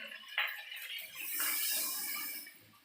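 Water poured into a pan of meat cooking in a home kitchen, a steady splashing, hissing pour that swells midway and then tapers, close and alone without talk.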